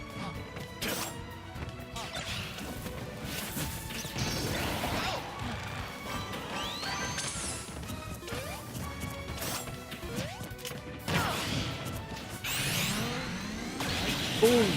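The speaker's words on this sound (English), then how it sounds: "Gunner gets to use a final smash" Super Smash Bros amiibo tournament match with a final smash, loud crashing impacts, whooshes and zinging game effects layered continuously, faint commentary underneath.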